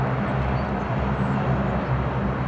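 Q400 turboprop airliner engine at an airport, a steady loud low drone with broadband roar and a faint rising whine, continuous throughout.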